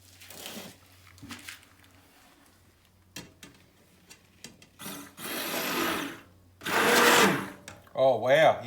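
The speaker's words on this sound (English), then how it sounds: "Might use the stick blender and see if we can get it to thicken up in a hurry" A stick blender whirs in short bursts through a homemade soap mixture to thicken it, with intermittent motor buzzes of a second or two and quiet gaps between them. A person speaks near the end.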